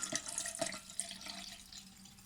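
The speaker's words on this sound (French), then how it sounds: "on va se retrouver avec une sorte de jus de compost que je vais verser ici parce qu'il y a un bec verseur" Liquid compost juice pours from a spouted container, a close, continuous splashing trickle with a few brief drips and no voices.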